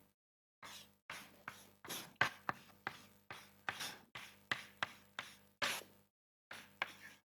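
An equation is written by hand during a scientific lecture, heard as a faint series of short scratchy strokes and taps that come in quick, uneven bursts with brief pauses between them.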